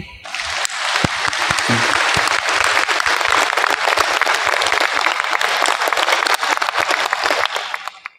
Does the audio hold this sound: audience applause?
yes